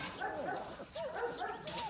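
Young Kunming dog puppies from a litter whimper and yip in thin, rising cries, close by and fairly steady over a low background, with a few overlapping squeaks.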